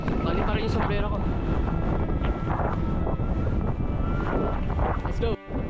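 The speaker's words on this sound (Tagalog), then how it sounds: "Lakas ang hangin" Strong wind buffets the microphone at a mountain summit, a loud continuous roaring rush with gusty surges, while people speak faintly beneath it.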